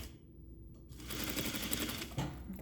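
A sewing machine stitches in reverse with its side reverse lever held down, a quiet start giving way to a fast, steady mechanical rattle of needle strokes close up.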